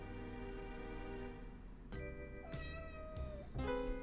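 A real cat meows several times indoors, short clear cries close by over a steady low hum from a Tex Murphy Pandora Directive game session, with no talk.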